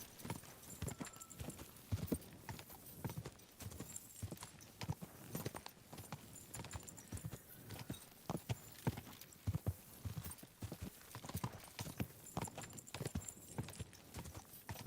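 A horse in the video game Kingdom Come: Deliverance 2 trots along a road, its hooves beating a steady, rhythmic clip-clop close by throughout, with no talk over it.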